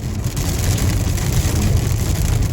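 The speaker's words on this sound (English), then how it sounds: "we hit another pocket of rain. It's 100 degrees, but coming down pretty hard." Heavy rain pelts a car driving on the highway about 30 miles outside Las Vegas in 100-degree heat, a dense, steady wash of drumming drops over a low road and engine rumble, with no talk.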